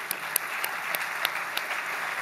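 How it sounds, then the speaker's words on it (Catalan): Audience applause at a radio association awards ceremony as a prize is handed over, a steady wash of clapping with a few sharper individual claps standing out, moderately loud and continuous. "Un aplaudiment per ell."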